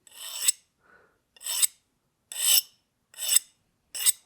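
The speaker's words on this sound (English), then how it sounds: "if the file skates across the edge there, then we know that our heat treat worked" A steel file is drawn across the edge of a heat-treated knife blade in five short rasping strokes, evenly spaced, close and crisp, with silence between them.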